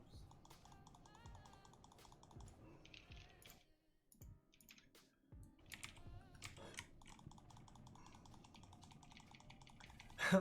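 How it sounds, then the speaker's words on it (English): Rapid, continuous clicking of a computer keyboard being typed on, close and fairly quiet, with faint game sounds underneath and no voices. "Oh, good, you've been beating that keyboard up."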